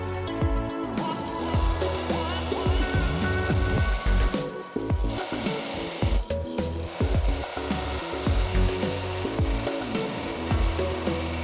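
A saw grinds through a Kentucky agate nodule with a loud, rough, continuous cutting noise broken by rapid, irregular scraping strokes and brief dips in pitch as the blade bites into the stone.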